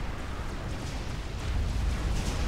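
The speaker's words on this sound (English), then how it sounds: "And the cruiser bombardment continues." Continuous low rumbling barrage of naval cruiser bombardment explosions in the strategy game Forged Alliance Forever, a dense, steady roar that swells louder in the second half with no distinct separate blasts.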